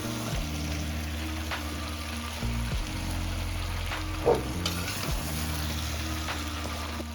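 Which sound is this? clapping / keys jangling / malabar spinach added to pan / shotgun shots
malabar spinach added to pan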